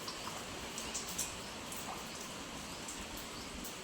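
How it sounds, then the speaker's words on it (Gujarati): Faint, steady rain keeps falling in the evening, a soft continuous patter in the background with a few light drop ticks and no voices. "વરસાદ તો ચાલુ જ છે"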